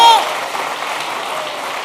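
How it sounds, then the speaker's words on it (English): An audience gives a round of applause at a live spoken-word event: a short burst of dense clapping that starts loud and then carries on steadily at a slightly lower level. "I'm really want to give them a round of applause."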